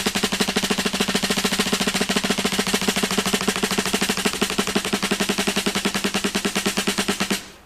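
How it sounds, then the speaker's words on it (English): Closed single stroke roll on a drum: a fast, even, continuous stream of tightly spaced hits at steady volume for about seven seconds before stopping abruptly. "I'm going to continue on to show you what a closed single stroke or alternating stroke roll sounds like."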